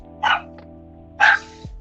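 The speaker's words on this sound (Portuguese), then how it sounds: "meu cachorro." Dog barking, two separated loud barks about a second apart, close by, with a faint short yip between them and steady background hum.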